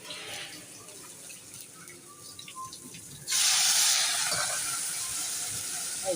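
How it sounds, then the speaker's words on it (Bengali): Water pours into a curry that is already cooking and sets off a sudden loud hiss and steam roar partway through. Before that, a quieter simmering sizzle is heard. "একটু জল দিয়ে দিলাম"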